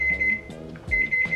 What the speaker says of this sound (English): Let's see what that beeping be about.